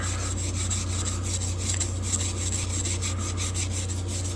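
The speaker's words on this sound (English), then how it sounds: "let's start with this brass wire brush, get some of this roughed off here" A brass wire brush scrubs rust from an old German-made vintage knife, giving close, steady, raspy back-and-forth strokes with no talking.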